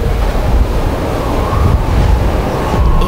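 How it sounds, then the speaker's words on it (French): Strong, violent wind roars and gusts steadily in extreme cold below minus 20 degrees, a dense, rushing noise filling the whole clip without pause. "Le vent devient violent."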